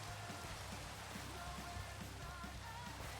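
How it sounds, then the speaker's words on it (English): Soft, steady patter of rain in a video game, faint and continuous with no other sounds over it. "It's raining."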